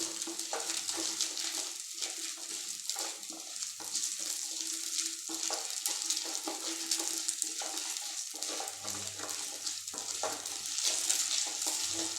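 Banana flower frying in a pan makes a continuous close sizzle, with irregular stirring scrapes and crackles running through it.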